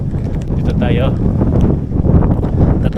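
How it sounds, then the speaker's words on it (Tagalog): Strong wind buffets a handheld camera outdoors during travel in Pangasinan, producing loud, low rumbling gusts that swell and fade, with a brief higher whistle partway through. "Yung ating camera ay nauuga sa sobrang lakas ng hangin."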